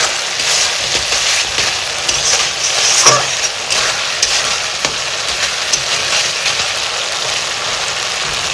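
Spice paste with garlic sizzles steadily in a pan for a Bengali chicken curry, a continuous loud hiss with occasional stirring scrapes and clinks.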